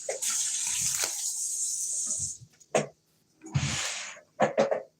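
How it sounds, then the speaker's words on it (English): Tap water runs steadily over chopped potatoes in a home kitchen sink for a couple of seconds, followed by a short second burst of flow with clinks and knocks in between. "rinse them off."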